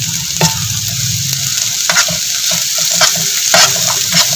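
Finely chopped onions sizzle steadily in a hot pan for egg taka tak, a loud continuous frying hiss broken by a few stirring scrapes and clinks, close up with no talk.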